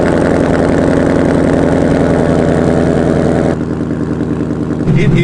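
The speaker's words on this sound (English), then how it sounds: "let's get a cold start on the Mach 1" A Mach 1 sports car engine idles after a cold start on a chilly Utah day, a loud, steady rumble with a dense even pulse that shifts to a slightly lower, quieter idle near the end.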